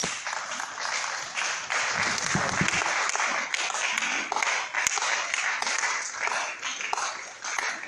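A church congregation applauding, sustained close crowd clapping throughout with a few faint voices underneath.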